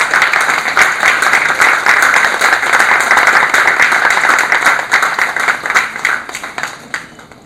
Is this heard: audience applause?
yes